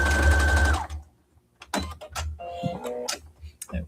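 Domestic sewing machine stitching around a reversible mini tote bag, one loud steady whirring burst at the start that stops abruptly, followed by quieter handling clicks, rustling and a short whine of fabric being moved.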